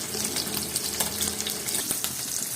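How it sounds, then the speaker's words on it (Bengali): Dried salted hilsa fish frying lightly in plain oil, a brief close, steady crackling sizzle throughout with no voices. "এমনি তেলের মধ্যে জাস্ট একটু ভেজে নেব হালকাভাবে"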